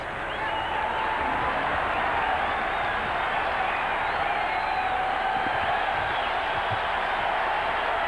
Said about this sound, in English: Crowd trying to root Dennis Eckersley through the top half of the 9th inning.